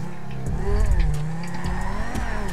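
A car in the GTA RP video game accelerates hard, engine revving and rising in pitch with some tire squeal, loud and close, while voices and game sounds mix faintly underneath.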